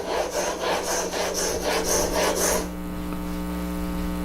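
A steel chisel is pushed back and forth on the coarse side of a soaked wet sharpening stone, close rhythmic rasping strokes for about two and a half seconds, then a low hum carries on alone.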